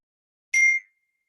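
A single short, bright computer notification ding rings out alone against silence and fades quickly.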